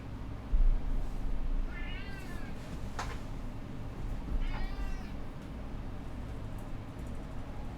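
A cat in the video game Persona 3 Reload meows twice, a few seconds apart, over a steady low background hum.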